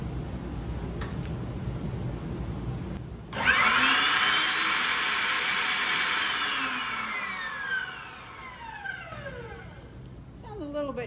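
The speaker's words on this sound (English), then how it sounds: "that's also how table saws sometimes sound" A 1987 Delta 10-inch table saw starts up with a sudden whine that stays loud and steady, then winds down with a falling pitch, while a person talks over it.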